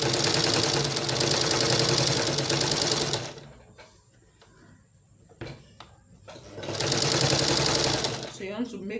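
A sewing machine stitching a corset, a loud steady mechanical whirr running for a few seconds, pausing amid small handling clicks, then starting again up close.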